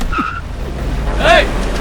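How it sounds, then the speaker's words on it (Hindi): A taxi skids to a stop in an action movie scene, a short loud tyre squeal rising near the end over low engine rumble, with a brief voice earlier. "रोको, गाड़ी रोको।"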